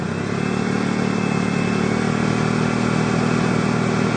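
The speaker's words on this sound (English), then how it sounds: "what you want to do is you want to go and raise your RPMs to about 1500." A vehicle engine runs at a raised, steady speed of about 1500 RPM during an alternator test, a loud continuous hum that holds level throughout with no talk.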